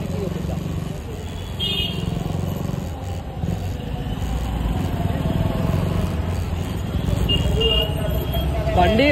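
A KTM Duke 200 motorcycle runs on a test ride with a steady low engine drone and road noise, and a rider speaks over it throughout.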